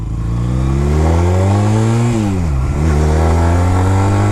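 A 2006 Honda Rebel 250 motorcycle accelerates close by on a test drive, its engine note climbing through the gears with a brief dip around a shift before pulling strongly again, loud and steady throughout.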